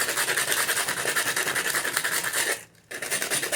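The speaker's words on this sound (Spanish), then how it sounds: "recordemos que tenemos que lijar" Abrasive paper sanding an iron surface before soldering it to copper: continuous loud, close rasping strokes, broken by one brief pause before scrubbing resumes.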